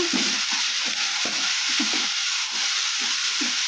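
Chopped onions and green chillies sizzle steadily in a pan over medium flame, with soft, irregular scraping and tossing of a spatula as the mixture is stirred together, close and continuous without voices.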